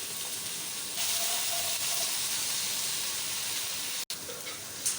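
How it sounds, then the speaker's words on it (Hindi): Chopped garlic, ginger and green chillies fry in a pan, giving a steady, loud sizzling hiss that runs without a break, dipping for a moment near the end. "तो 2 मिनट तक मैंने अदरक लहसुन और सब्ज़ मिर्चें जो डाली थी चॉप करके उन्हें भूना है"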